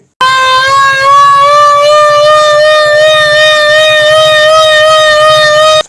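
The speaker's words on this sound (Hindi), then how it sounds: "ये चेक करें, ये सायरन चल रहा है आजकल।" A loud, steady civil defense siren wails continuously at a high pitch, with a faint rhythmic pulsing beneath it, running almost the entire time.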